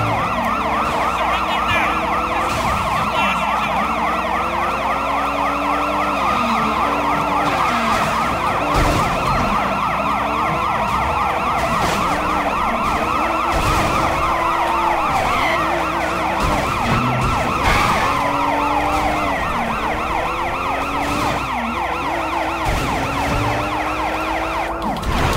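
Wailing car sirens in the game Sleeping Dogs, several overlapping loud sweeping tones rising and falling continuously, with engine and traffic noise beneath and no speech.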